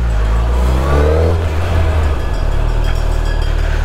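A Suzuki Hayabusa superbike revs hard during a wheelie on a road, a loud, steady engine roar that rises in pitch and then holds at high revs.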